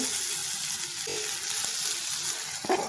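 Onion, tomato and turmeric fry in a pan with a steady, soft sizzle, joined by a few faint clinks and scrapes.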